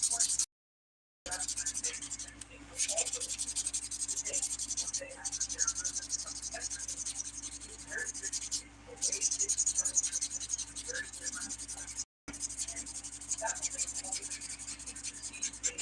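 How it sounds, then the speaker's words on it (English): Dip powder nails being buffed with a nail buffer make soft, rapid rubbing and scratching strokes close up, repeated steadily with brief pauses. "buffing makes them even smoother"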